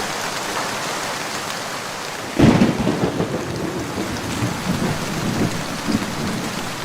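Heavy rain in a cartoon hisses steadily until a loud, sudden thunderclap breaks in, then rumbles on beneath the continuing downpour.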